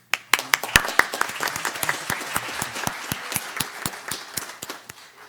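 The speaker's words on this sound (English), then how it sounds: "Can we clap?" Audience at a county school board meeting claps for an elementary school, sharp individual claps in a steady patter that swells briefly then continues evenly for about five seconds.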